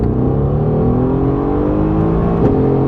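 A loud, deep Mercedes-AMG GT R engine revs up steadily, its pitch climbing as it accelerates nearby, with a brief dip near the end.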